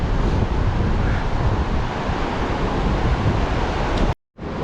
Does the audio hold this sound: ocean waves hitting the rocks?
yes